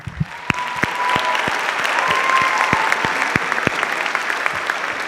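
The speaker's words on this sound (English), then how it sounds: "One more round of applause for Matt." A crowd at a concert band performance claps steadily and warmly, a dense wash of hands with sharper individual claps standing out, sustained throughout.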